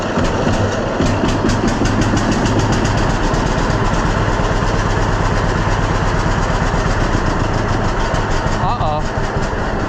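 A John Deere B tractor engine runs loud and close with a steady chugging beat, then falters near the end as it starts to stall.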